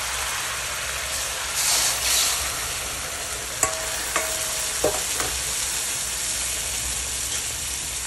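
Pork chops simmer in marinade in a pan, giving a steady broad bubbling sizzle with a few sharp metallic clinks and scrapes from a utensil midway, fairly close and without talk.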